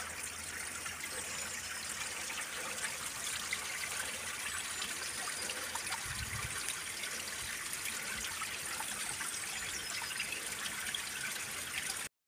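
Spring water trickling and running off farmland on a hillside, a steady broadband wash that stays at an even level throughout, with no voices.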